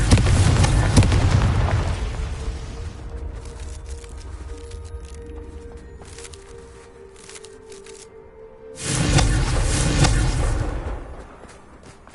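Confringo blasting-spell explosions in Hogwarts Legacy during a Merlin trial: a loud booming blast at the start, a quieter rumbling stretch, then a second heavy explosion near the end.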